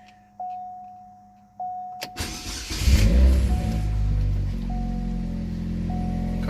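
A Chevrolet Cobalt SS starts up after a few soft electronic chimes, its engine catching with a loud surge and then settling into a steady, close, deep running rumble.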